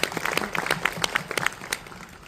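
Brief, scattered applause from an audience at an event honouring those who fight for children, a few sharp claps rising and thinning over about two seconds.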